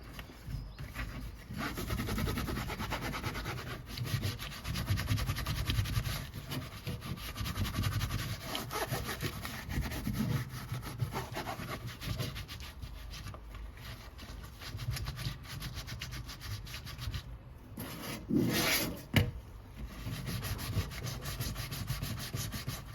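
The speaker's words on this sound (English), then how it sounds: "I decided to sponge it, scrub it, and then wash it in the washing basin to make it absolutely clean" Sponge scrubbing oven vents during a kitchen deep clean, a steady, close rubbing and scraping sound that continues without pause, with a brief louder burst near the end.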